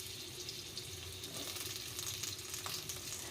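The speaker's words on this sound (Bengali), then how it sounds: "আর এখন আলুটাকে হালকা করে একটু ভেজে নেব" Potatoes and pumpkin fry in a pan for a vegetarian curry, giving a steady, moderately faint sizzle with a few light scraping touches and no talking.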